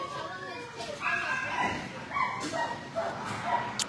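A dog at an animal shelter barks and yips in short bursts during a walkthrough, mid-distance, mixed with children's voices and adults talking nearby.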